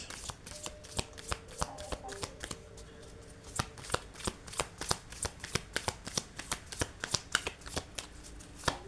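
Tarot cards being shuffled loosely by hand, a fast run of crisp, close flicking riffles and slaps that keep going steadily, with no speech over them.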